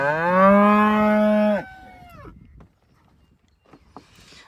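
A cow moos once, loud and close, in a long drawn bellow that cuts off sharply, followed by quiet field ambience with faint scattered noises.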